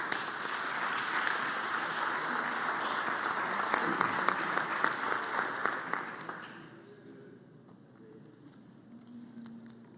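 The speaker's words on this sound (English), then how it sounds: "Let's give her a round of applause." Applause from the Senate floor and gallery for a former clerk of the House, a dense even burst of many hands clapping that dies away after several seconds into quiet room tone.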